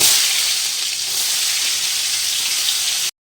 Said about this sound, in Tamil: இன்னும் வெங்காயம் நல்லா வதங்கட்டும்